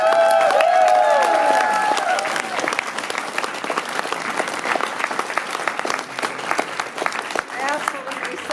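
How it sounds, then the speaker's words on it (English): Audience at a large regional gathering bursting into loud applause, dense clapping that swells at first then continues steadily, with a voice speaking over it at the start. "Give yourself a applause."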